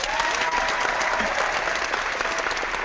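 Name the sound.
single clap by host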